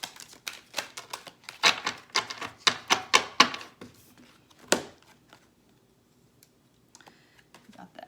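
Sacred Contract archetype cards shuffled and pulled by hand, a quick run of crisp snapping and riffling clicks, close, then a few soft card taps after a pause, with no voices.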